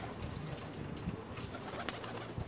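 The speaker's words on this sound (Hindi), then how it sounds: "ये मेरे कुछ टैडी कबूतर हैं जी।" Teddy pigeons cooing in a loft, soft low cooing calls scattered over a steady background hiss, fairly close, with no talking over them.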